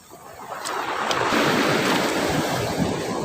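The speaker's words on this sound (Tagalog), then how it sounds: "Dahil sa laki ng alon po" Large ocean waves crash onto the shore in a steady roaring surge, a broad rushing wash that swells and holds loud and close, with wind buffeting the microphone.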